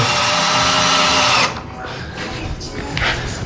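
A power drill runs continuously while tightening screws during house construction, a loud steady whine that cuts off abruptly, followed by quieter handling noises and voices.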